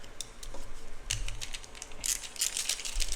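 A stubby angle screwdriver ratchets on a screw in a series of quiet, close, irregular clicks.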